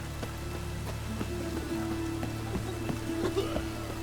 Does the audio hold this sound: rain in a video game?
yes